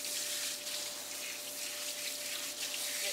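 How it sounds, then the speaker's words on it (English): Tap water runs steadily into a sink as hands are rinsed during a dog grooming session, a soft continuous hiss close by with no talking. "I'm going to rinse off my hands."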